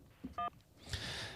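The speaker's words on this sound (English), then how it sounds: "Oh, Lauren's calling back." A single short phone tone sounds faintly as a call comes in before a courtroom trial, followed by a burst of soft static-like noise.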